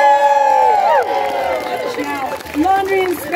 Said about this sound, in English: Just like stand up right where you are so we can applaud you.